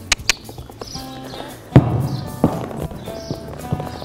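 Hooves of a horse walking onto a bridge obstacle on a Western trail course, a few sharp separate knocks spaced out among quieter shuffling, close by with no talking.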